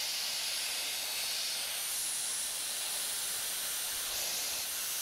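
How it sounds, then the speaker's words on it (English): A steady, fairly loud hiss of an air compressor releasing air near a fishing boat with buoys, a continuous broadband rush that never pauses, no talking. "You rude interrupting air compressor."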